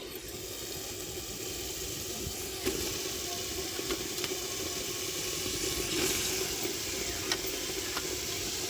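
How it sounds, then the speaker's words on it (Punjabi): Grated radish dropped into a pan of ghee and fried masala sizzles with a steady, quiet hiss and occasional soft scrapes and pops, with no voices. "ਹੁਣ ਆਪਾਂ ਇਹਦੇ ਵਿੱਚ ਕੱਦੂਕਸ ਕੀਤੀਆਂ ਹੋਈਆਂ ਮੂਲੀਆਂ ਐਡ ਕਰਾਂਗੇ"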